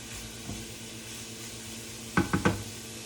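A steady sizzle of onions frying in a pan runs throughout, with a few close clinks of a utensil against the pan near the end.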